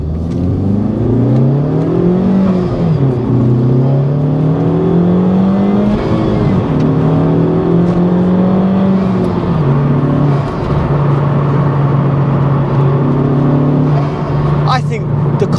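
Loud, close engine note of an FK2 Honda Civic Type R GT with a Tegiwa B-pipe pulling hard from first gear, its tone climbing through several rising sweeps and gear changes before settling into a steady drone.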